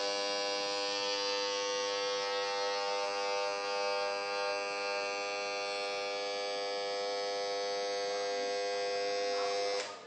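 Steady electronic buzzing tone from a microwave receiver probe during a standing-wave demonstration, loud and continuous for the whole stretch, with a slight drop in level right at the end, no talking.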